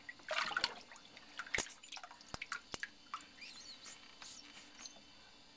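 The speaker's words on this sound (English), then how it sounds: "Let's see if it squirts water." A rubber duck toy squirts water in a few small wet spurts, drips and faint squeaks. The sounds are close, quiet and irregularly spaced.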